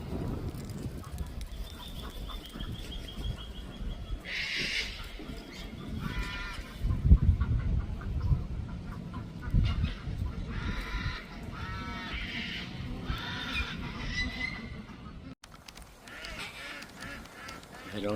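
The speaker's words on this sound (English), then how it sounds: "You can hear all the sounds of the cockatoos and the ducks behind." Birds call outdoors near Campbelltown, Australia, with repeated harsh squawks and honking cries of cockatoos and ducks in bursts over an ambient background.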